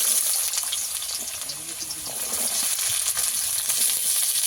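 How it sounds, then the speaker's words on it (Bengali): Diced carrots dropped into hot oil for a vegetable dal, frying with a steady, loud hiss and crackle that carries through the whole stretch, with faint talk underneath. "এখানে তেল গরম হয়ে গেছে। প্রথমে আমি গাজরটা দিয়ে দেব।"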